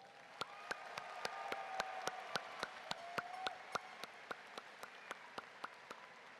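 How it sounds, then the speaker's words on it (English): A high school graduation audience gives the graduates a round of applause, faint and distant, with one nearby clapper striking crisp, evenly spaced claps above the soft background. "Audience, let's give them a round of applause."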